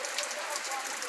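Heavy rain pours steadily in Joaquim Gomes, Alagoas, a dense, even hiss of falling water with no breaks.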